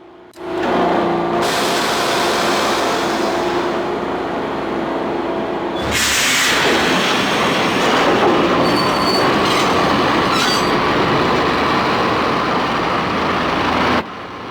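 A train in the video game Max Payne rumbles loudly and steadily throughout, with squealing wheels and a clattering surge partway through, no voices over it.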